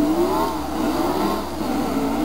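Race car engine in the NASCAR Heat video game at Sears Point, a loud continuous whine that rises and falls slightly as the car crests a hill, with no voices.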